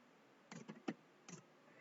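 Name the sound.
typing on a computer keyboard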